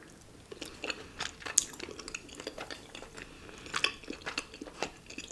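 Close, quiet mouth sounds of someone chewing cheesy ramen and rice cakes, a series of soft wet smacks and squishy bites in an irregular rhythm, with an occasional faint clink of a utensil.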